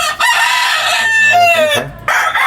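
A white Kelso gamecock rooster crows loudly and close by in one long, drawn-out call, with a brief clucking sound before it and a short fowl call right after.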